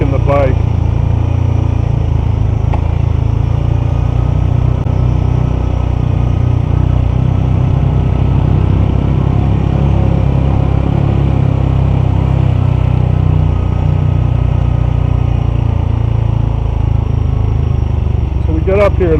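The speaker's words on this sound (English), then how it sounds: "So you can hear the engine braking the bike." Honda CT 125 motorcycle engine braking on a steep mountain descent, a loud, continuous low droning rumble held close and steady for the whole stretch, with faint brief wind or rider noise at the edges.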